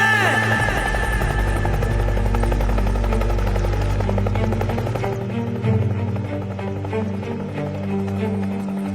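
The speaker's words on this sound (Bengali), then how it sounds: "স্যার হেলিকপ্টার আসছে স্যার, হেলিকপ্টার আসছে স্যার।" A helicopter approaching during an army documentary, a loud, steady rotor drone and throbbing chop that dominates throughout, its pitch and texture shifting about halfway through as it draws nearer, with no voices over it.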